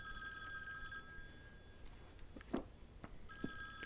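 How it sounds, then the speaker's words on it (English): In a 1984 fantasy film scene, an old telephone bell rings in two bursts, one at the start and one near the end, with quieter scattered knocks and movement in between and no speech. "Phone rings."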